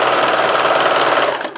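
A sewing machine stitches fabric around a zipper for a simple pencil bag, a loud, rapid, steady mechanical whir of the needle that slows and stops at the end.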